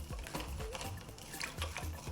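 Spoon or hand stirring salted water into a Neapolitan pizza poolish, giving soft repeated wet squelches and scrapes at close range, with no talking.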